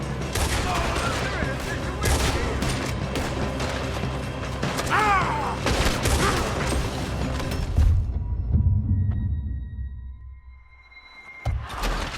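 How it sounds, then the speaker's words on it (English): A Red Dead Redemption 2 shootout, with dense, loud volleys of rifle and pistol fire and booming shots for about eight seconds, then a sudden drop to quieter crackles and a last sharp report near the end. "Looks like we're shooting our way out of here, fellers."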